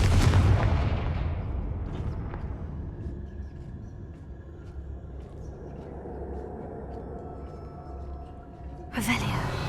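A Confringo blasting spell explodes in Hogwarts Legacy: a heavy boom opens and rumbles away over several seconds, and another blast strikes near the end.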